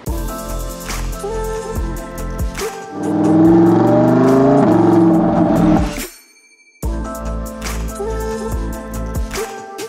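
A Lamborghini Huracan Evo engine roars loudly, starting at a steady idle-like rumble, then surging into a strong high-revving acceleration before cutting off abruptly and returning to a steady drone.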